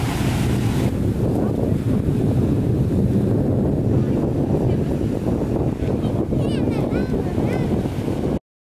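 Ocean waves wash against a rocky shore at night while strong wind blasts the microphone, a loud continuous rushing roar that cuts off abruptly at the end, with a faint voice briefly in the mix.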